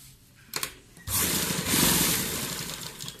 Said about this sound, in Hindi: मैं सीधी यहाँ पे सिलाई इस तरह खींच दूंगी।